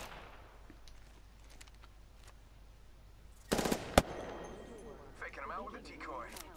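Gunfire in the Apex Legends video game: a short, loud burst of rapid shots rises out of quieter game ambience, followed by a single sharp crack and then scattered game sounds.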